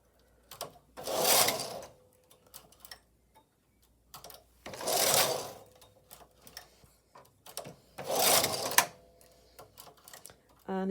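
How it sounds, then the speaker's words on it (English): A Silver Reed knitting machine carriage sweeps across the bed during casting off, giving three loud clattering passes a few seconds apart, each a dense rattling burst, with softer clicks and handling noises between them. "the cast off with the carriage is reasonably speedy"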